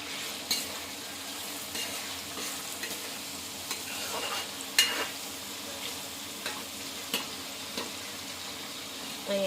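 Garlic fries with a little turmeric in a pan as the base of a crab curry. A soft steady sizzle runs throughout, with scattered light scrapes and clinks from stirring.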